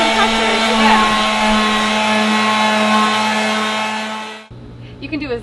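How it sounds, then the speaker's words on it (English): A power sander sanding a bench makes a loud, steady motorized whine for several seconds, then cuts off abruptly, leaving quieter room noise and faint movement. "You can do as little or as much sanding as you want"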